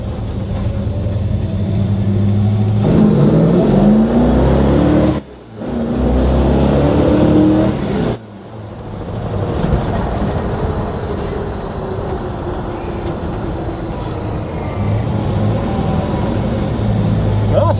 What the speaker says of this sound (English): let's put some heat in the motor and go for a little rip